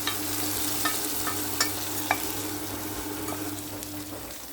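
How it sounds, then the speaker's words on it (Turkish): Fried mint in hot fat is poured over yogurt soup, giving a steady sizzle with a few sharp clinks of a pan or spoon, close up, with no talk. "Şimdi kızaran nanemizi çorbamızın üzerine döküyoruz"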